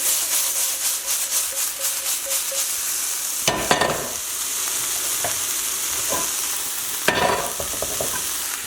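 Sesame chicken is stirred in a sizzling pan after a pinch of salt and pepper. Rapid scraping and clattering strokes come at the start, followed by steady frying sizzle broken by two louder bursts of stirring.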